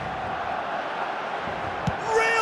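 A stadium crowd in an eFootball match roaring over a near miss, a broad steady wash of noise that swells toward the end, with a brief thud partway through.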